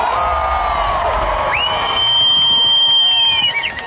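A crowd at the Silverstone British Grand Prix media day cheers and whoops loudly. The roar swells midway with a high, sustained whistle-like cry on top, then tapers off at the end.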